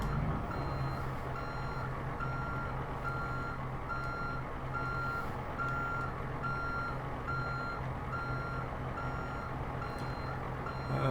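Reversing beeps from a semi truck backing onto a trailer in American Truck Simulator, a steady evenly spaced alarm sounding over a constant low diesel engine rumble, close and unbroken, with no talking.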